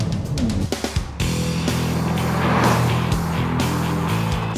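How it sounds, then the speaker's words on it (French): Ford Fiesta ST 1.6 EcoBoost engine while driving on mountain roads, a loud steady engine drone with rising revs and tire noise, alone with no talk. "Le bloc chante et le son est amplifié par une membrane dans l'habitacle."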